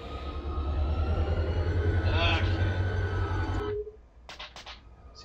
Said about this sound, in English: I think I just started a train. I heard the engine just go.